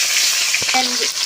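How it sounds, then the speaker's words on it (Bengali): Fish frying in mustard oil in a wok, a loud, close, steady sizzle with a brief stir, alone for just over a second. "কড়াইতে সর্ষের তেল দিয়ে দেবো, মাছটা আমি দিয়ে দেবো কড়াইতে।"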